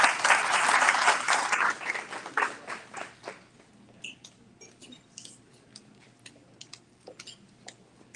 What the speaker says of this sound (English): So let's give everybody some applause.